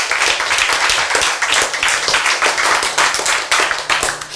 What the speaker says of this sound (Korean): 이때는 박수 한번 쳐야지